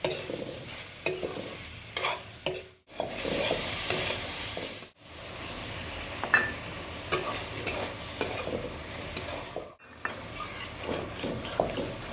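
Okra and vegetables with chilli and garlic paste sauté in a pan, producing a steady hissing sizzle with repeated stirring scrapes and brief pauses.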